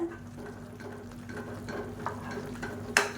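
A spoon stirs rice flour in a pan with soft, irregular scraping under a faint sizzle, ending in one sharper clink.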